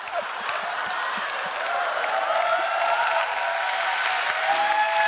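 A lecture-hall audience at a Korean talk event claps steadily and densely, a sustained wash of many hands with faint cheering voices mixed in, holding an even level throughout.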